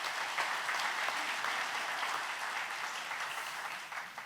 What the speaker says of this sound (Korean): 우리에게 은혜로운 말씀을 전해주신 목사님께 감사 박수를 드리겠습니다.